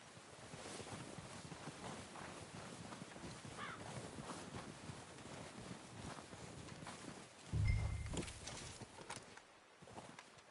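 Horse hooves clip-clop steadily in Red Dead Redemption 2 against a breezy outdoor wind background, with a louder low thump late on before the footfalls fade.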